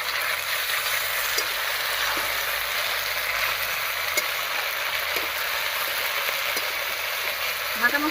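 Ground spice paste frying in a pan with onion, an even, close hiss of sizzling that runs steadily for eight seconds with a few faint clinks and scrapes.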